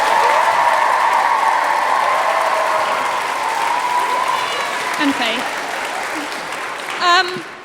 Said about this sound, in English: can we also give a round of applause to Jonathan for playing the piano so wonderfully?